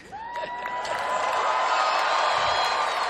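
A tennis crowd at the UTS London Grand Final roars and cheers, with whoops and whistles building quickly into sustained, loud, enthusiastic noise.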